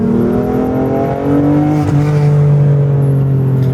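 BMW M4 F82 exhaust heard from inside the cabin with a window open, a steady droning engine note that rises slightly in pitch midway, loud and continuous with no talking.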